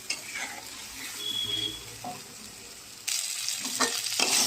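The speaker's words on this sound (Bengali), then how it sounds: "জিরে আদা বাটা পরিমাণ মতো নুন হলুদের গুঁড়ো লঙ্কার গুঁড়ো আর টমেটো এটাকে ভালো করে কষাবো" Cumin, ginger paste, turmeric, chili powder and tomato fry in a pan with a soft continuous sizzle and occasional stirring clinks, growing louder and brighter partway through.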